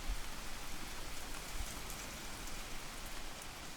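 Steady rain falls continuously, a dense even hiss of drops on surfaces with a couple of faint low thumps, soft and constant with no voices.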